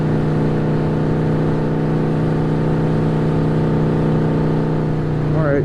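Yamaha VMax motorcycle engine warming up, a steady loud idle hum with a low drone that holds evenly throughout, close by, with a brief rising whine near the end.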